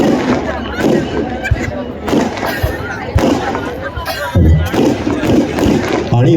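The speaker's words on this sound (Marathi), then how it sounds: "अरे जे फटाके 16 तारखेला फोडायचे आजच फोडून राहिले।" Firecrackers burst at a street celebration in Kalyan honouring Dr. Babasaheb Ambedkar, a series of sharp irregular bangs over crowd noise and people talking nearby.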